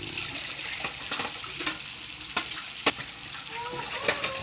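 Igado with carrots and potatoes stirred in a pan over a steady, close sizzle, with sharp spoon scrapes and clacks punctuating the frying, no voices.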